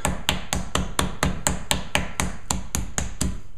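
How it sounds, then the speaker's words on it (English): A meat pounder beats a steak for steak Forestiere down to about half an inch thick, making about fifteen sharp, close, evenly spaced thuds in a fast, steady rhythm with no pause. "we're just going to pound it a little bit, round and round and round and round"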